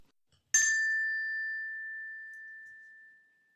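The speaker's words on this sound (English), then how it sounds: "Turn the page when you hear the bell ring" A single clear bell ding rings out once after a brief silence, its bright tone lingering and slowly fading over a few seconds.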